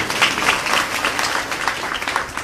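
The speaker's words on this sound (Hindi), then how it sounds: "जोरदार तालियां हरि बोल" Loud, dense applause from an audience at a Vyasa-puja religious gathering in Baraut, many hands clapping continuously without a break.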